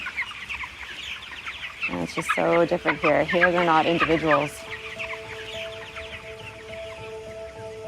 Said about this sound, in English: I'm covered in chickens right now. They're clambering to get up here.